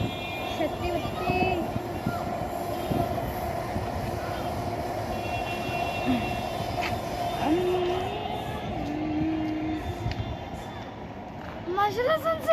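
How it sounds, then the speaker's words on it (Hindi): A metro train runs past in a steady broad rumble that lasts throughout, with faint squeals, while a person talks over it. "हाँ मेट्रो भी जा रही है"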